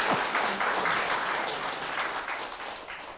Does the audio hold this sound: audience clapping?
yes